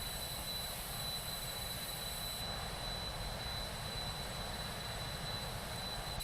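A HondaJet passes in a flyby inside Microsoft Flight Simulator 2024, a steady broadband jet roar with a high engine whine, loud and even throughout with no voices.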